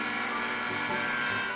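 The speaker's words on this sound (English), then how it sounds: "This machine has fast blades to mix fruits and milk into a yummy smoothie." An electric blender with fast blades whirs continuously, mixing fruit and milk into a smoothie, a steady high-pitched motor whine at moderate volume.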